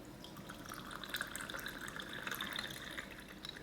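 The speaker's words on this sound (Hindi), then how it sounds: "बाकी इसमें हम पानी शामिल कर देंगे।" Water poured into a glass with ice cubes, basic syrup and mango sharbat powder for a mango lemonade, a soft splashing and trickling pour up close, no talking.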